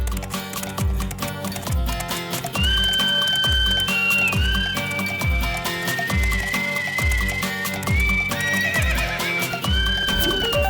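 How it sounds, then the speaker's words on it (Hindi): A horse neighs and whinnies in long, wavering calls while its hooves clip-clop in a steady rhythm, loud and close, with no talking. "अभी तो घोड़ा भी थक गया है, इसे भी जूस पिलाना पड़ेगा।"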